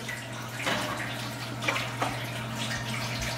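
Hot water poured into a large oven tray, a soft steady splashing stream with a few brighter drips and splashes, faint and close, no talk.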